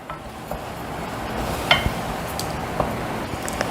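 Ground tomato being sautéed and stirred in a pan for spicy palak khichdi: a steady, soft sizzle runs throughout, broken by a few sharp spoon scrapes and clicks against the pan, with no one talking.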